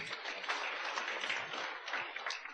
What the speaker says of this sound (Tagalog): Palakpak kini Lord.